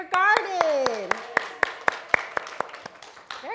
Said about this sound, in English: let's all cheer for Betty and Joe